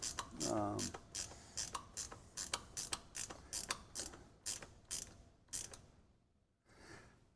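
A hand ratchet tightens the bolt on a golf cart armrest cupholder, giving a close, steady series of sharp clicking strokes that slow and fade near the end before a final short burst.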